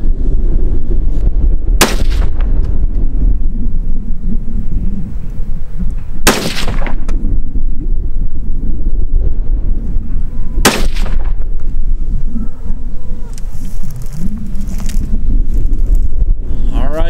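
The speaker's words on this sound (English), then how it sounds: "We're going to fire 3 shots and see what kind of readings we get." Three sharp, loud gunshots from a 6.5 Grendel rifle firing 120 grain Hornady GMX bullets, evenly spaced several seconds apart outdoors, with steady wind noise between shots.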